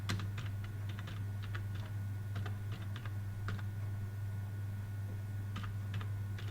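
Someone types watermark text on a computer keyboard, giving quiet, uneven clusters of key clicks with short pauses between bursts over a steady low hum.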